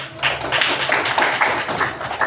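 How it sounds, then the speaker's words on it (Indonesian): A small group of students claps hands in a classroom, a steady, rhythmic run of sharp claps that carries on evenly for a couple of seconds with almost no talking. "kelompok 2, tepuk tangan dulu"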